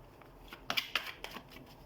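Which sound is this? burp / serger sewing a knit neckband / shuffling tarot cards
shuffling tarot cards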